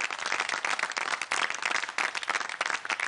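Sustained audience applause at a live Algerian comedy stage show, dense steady clapping filling the whole stretch at even loudness with no talk over it.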